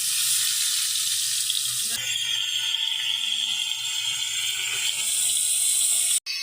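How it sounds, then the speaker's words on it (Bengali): Tilapia fish coated in turmeric, chili powder and salt frying in hot oil, a steady loud sizzle that continues throughout with a short sharp break near the end. "তেল গরম হয়ে গেছে, এখন মাছ দিয়ে দিব"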